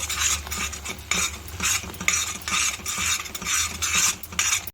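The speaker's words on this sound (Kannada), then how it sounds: "ರವೆ ರವೆ ತಳ ಹಿಡಿದೇ ಇರೋ ರೀತಿಲಿ ನೀವು ಮಿಕ್ಸ್ ಮಾಡ್ಕೋಬೇಕಾಗತ್ತೆ" Semolina (rava) sweet mixture being stirred in a pan, giving a steady rhythmic scraping and clinking of a utensil against metal, close and fairly loud, with no talking.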